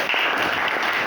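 Brief applause from a university lecturer certification session audience, a dense, steady wash of clapping with no clear breaks.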